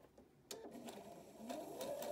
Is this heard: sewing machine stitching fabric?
yes